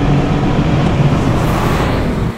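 A loud, deep engine of a 1963 Corvette C2 roars close by as the car accelerates in third gear, a continuous throaty rumble that eases off slightly at the end.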